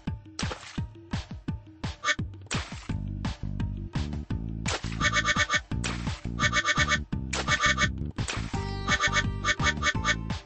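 Bright cartoon duck quacks from a kids' water park video game, popping out in quick repeated bursts alongside bouncy game sound effects, loud and close with no talking.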